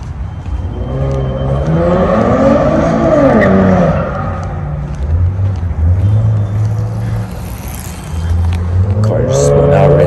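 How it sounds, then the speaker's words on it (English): A car spins out on a road where cyclists are coming down, engine revving and a rising, falling whine as the tyres lose grip, fairly close and loud, with a person talking over it. "Car just spun out right there."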